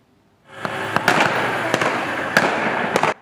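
Celebratory gunfire in the streets of Aleppo, a handful of sharp cracking reports at irregular intervals over a loud rushing background, fairly close.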